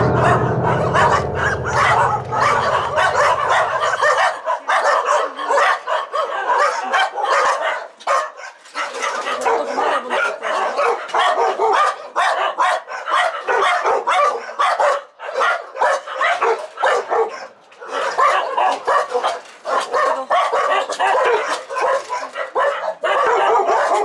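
A crowd of abandoned dogs at an illegal dog farm barking, yipping and whimpering loudly and close by in overlapping bursts, with a low rumble under the first few seconds.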